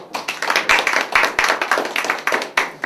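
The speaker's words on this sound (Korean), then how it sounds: "일주한테 박수 한번 주세요" A small workshop group claps for a participant after a hands-on camera exercise, giving crisp, distinct hand claps in a loose, fairly even rhythm of overlapping bursts, close and clear with no voices.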